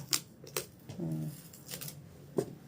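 Packing tape is stretched across the lid of a cardboard box while packing luggage, giving a short squealing pull in the middle between sharp crackles and taps, heard up close.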